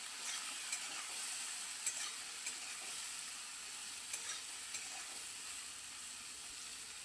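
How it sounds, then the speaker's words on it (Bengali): Bitter gourd frying in oil with salt and turmeric, a soft continuous sizzle with faint scrapes and taps of a stirring utensil at irregular intervals. "সামান্য একটু নুন আর একটু হলুদ গুঁড়ো দিয়ে উচ্ছেগুলোকে বেশ খানিকক্ষণ সময় লাগিয়ে আমি"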